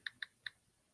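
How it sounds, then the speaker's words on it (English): Three crisp computer keyboard clicks in quick succession, close and fairly quiet, with a short pause before the last one and no talking. "My keyboard is out of control."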